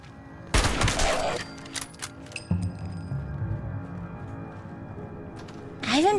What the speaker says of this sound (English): I haven't found too many of this specific rifle.